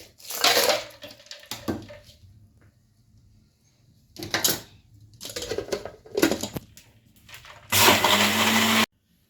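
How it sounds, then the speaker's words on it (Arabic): A blender roars in loud bursts, grinding and crushing ice with sugar water, with pauses between pulses, ending in one long sustained whir. "انا ضربت الماء بالسكر بالتلج"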